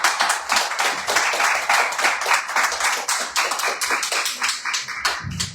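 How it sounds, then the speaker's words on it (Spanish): Members of a Spanish-speaking congregation clap hard for the Lord during a church service, producing close, sharp, rapid claps in a lively rhythm that stays loud for the whole stretch. "Denle fuerte el aplauso al Señor"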